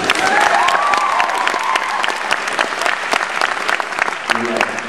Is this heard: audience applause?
yes